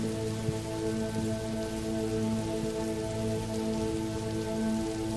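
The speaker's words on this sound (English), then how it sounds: "Rain begins, softly at first." Gentle rain falls steadily on green leaves, a soft continuous patter and hiss with no breaks, close and even in level, with no voices or thunder.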